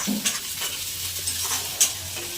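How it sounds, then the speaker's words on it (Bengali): Potatoes and eggplant frying in a pan, a continuous soft sizzle with a few scrapes and clinks of stirring, no voices. "বেগুনটা একটু নেড়ে চেড়ে।"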